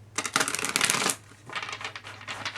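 Playing cards shuffled by hand in two bursts, a dense riffling flutter followed by a softer second shuffle, close up and alone.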